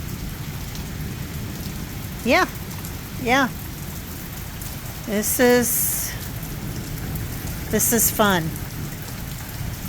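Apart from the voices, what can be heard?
heavy rain with thunder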